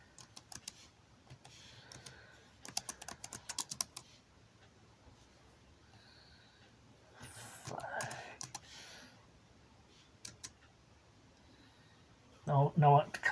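Keyboard typing for a search on an Atari VCS, quick clusters of close clicks and taps separated by quiet gaps, with brief louder noises near the end.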